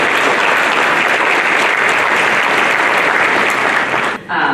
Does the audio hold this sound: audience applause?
yes